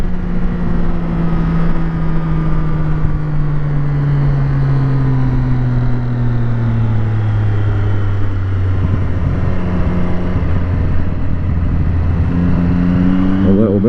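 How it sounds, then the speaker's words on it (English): A car engine drones steadily at close range as it runs out on the road, its pitch sliding down as the throttle closes on the overrun, with a faint exhaust burble under the loud, continuous hum. "See if we can hear a bit of burbling."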